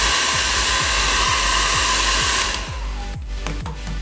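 A dryer blows steadily and loudly over an altered-fabric envelope craft piece, with a faint regular ticking underneath. After about two and a half seconds the airflow drops to a softer, rougher whir.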